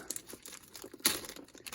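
Plastic wrapping crinkles and tears as small scissors snip it away from a boxed Hot Toys 1/6 scale Venompool collectible figure, with several close, soft crackling rustles and one sharper crunch midway.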